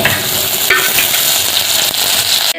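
Wet garlic hitting hot oil in a pan for a Khandesh varan batti meal, giving a loud, steady, continuous sizzle and crackle with faint stirring, no voices.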